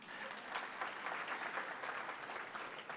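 A graduation audience claps for school principals, a steady, fairly distant wash of applause with no speech over it, faint overall.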